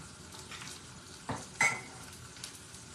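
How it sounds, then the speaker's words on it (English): Cubed steak fries in a hot pan with a soft, steady sizzle, punctuated by two brief louder bursts as meat goes in or is turned, with faint scraping in the background. "Hear how it sizzles when it goes in?"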